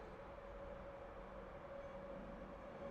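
A SkyTrain rumbles past at a steady level, a continuous low rail roar with a faint sustained tone riding over it, with no talking.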